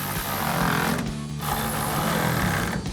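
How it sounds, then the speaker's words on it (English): A ratchet with a 14mm socket tightens the rail clamps of an inflatable camper topper on a Ford F-150 bed, giving close rapid repetitive clicking with a brief pause midway and no talk. "We're gonna grab our ratchet 14mm socket and tighten these 2 down."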